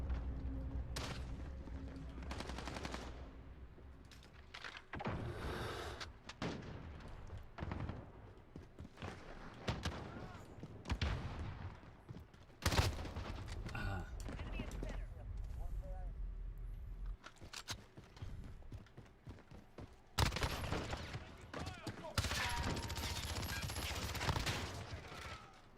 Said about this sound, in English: That's a whole lot of shooting and no dying.